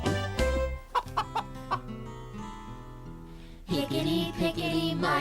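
A hen clucking in a series of sharp, close, rhythmic clucks, followed by a pause and then a louder burst of clucking, set within a children's musical show.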